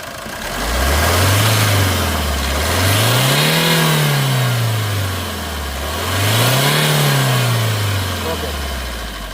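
A 2018 Maruti Suzuki Ertiga's engine revs up and down three times, swelling loudly and settling back toward idle between each push.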